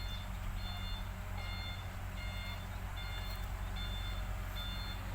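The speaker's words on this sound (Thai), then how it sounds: "ที่เห็นนั้นก็จะเป็นทางด้านของ แคท 313 D2 GC นะครับที่กำลังขยับตัวตอนนี้" A Cat 313 D2 GC excavator moving on a worksite, its reversing alarm beeping in a regular repeating pattern over a loud, constant diesel rumble.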